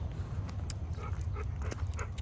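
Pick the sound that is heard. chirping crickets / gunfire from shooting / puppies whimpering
puppies whimpering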